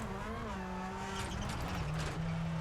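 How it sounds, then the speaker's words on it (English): Hyundai WRC2 rally car in the EA WRC video game on a snowy Swedish stage, its engine note rising and falling as it shifts and accelerates, with tire noise under the steady high-revving drone. "Sounds very, very different, the Hyundai, to any other cars I've driven on this game."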